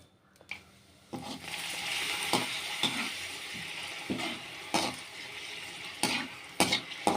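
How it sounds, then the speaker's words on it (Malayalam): Pappadam fries in hot oil with a steady, close sizzle that starts after a quiet second and runs throughout, broken by scattered utensil clinks and scrapes against the pan. "എണ്ണ ചൂടായി വന്നിട്ട് നമുക്ക് ഇതിലേക്ക് ഇനി കുറച്ചേ കുറച്ച് പപ്പടം ഇട്ട് പൊരിച്ചെടുക്കാം"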